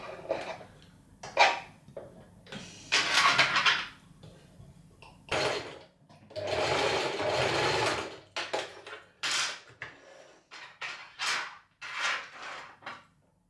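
A sewing machine stitches a dress strap in short bursts separated by pauses, each run a near, moderately loud whirring rattle that starts and stops repeatedly.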